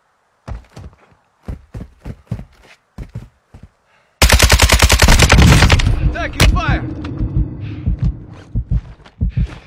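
Video game gunfire during a sniper fight, first a series of separate sharp single shots, then a loud sustained automatic burst with echoing impacts, ending in scattered softer hits.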